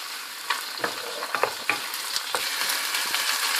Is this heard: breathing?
no